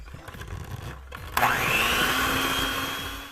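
A mixer starts up with a sudden whir and keeps running steadily as butter, powdered sugar and vanilla are mixed together, after a short stretch of quieter clatter and handling noise.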